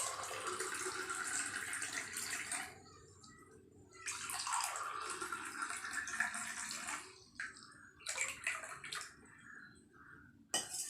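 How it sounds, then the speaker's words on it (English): Water pours from a container into two glasses for a lemon and salt experiment, two close bursts of splashing fill broken by pauses and a few short trickles at the end. "Now fill the water"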